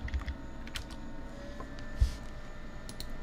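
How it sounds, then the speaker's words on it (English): Keys tapped on a computer keyboard while searching for command prompt in Windows, a few soft irregular clicks with one sharper keystroke near the middle, quiet and close over light background hiss. "Or you can also just start typing command prompt in search"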